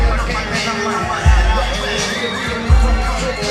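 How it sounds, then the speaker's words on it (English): Wrestling arena crowd roaring in a dense, steady wash of noise, with two heavier surges of cheering and stomping swelling up about a second apart. "You can hear that crowd going wild"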